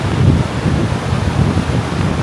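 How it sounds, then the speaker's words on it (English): Wind gusting at the foot of Briksdal Glacier on a hike near Olden, Norway, a steady low roaring rush that swells and eases throughout, loud and close with no voices. "the wind right at the bottom"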